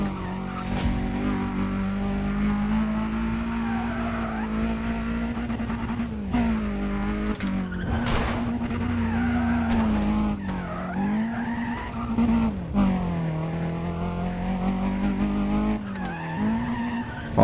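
A car in the Need for Speed: Undercover video game skids with the handbrake, a loud, sustained tire squeal riding over a droning engine whose pitch dips and rises through repeated slides.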